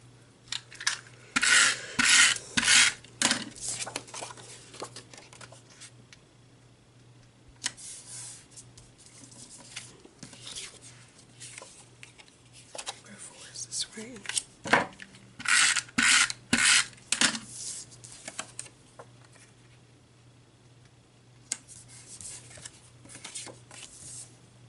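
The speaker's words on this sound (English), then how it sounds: "I'm going to trim off just a tiny little edge." Scrapbook paper has a tiny edge trimmed off, giving clusters of quick, close rasping strokes with quieter shuffling and handling between the clusters.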